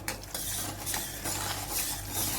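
A tomato gravy with salt is sautéed in a pan, a quiet sizzle under repeated scraping strokes and clinks of a metal spoon against the pan, close and unaccompanied by talk.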